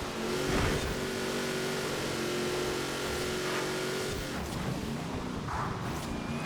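A race car's engine in Forza Horizon 4 drones steadily at high revs with a sustained harmonic whine, loud and close throughout, with no gear change or break.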